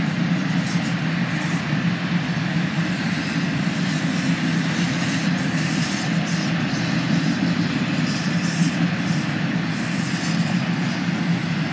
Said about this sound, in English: I raced the train to come see it.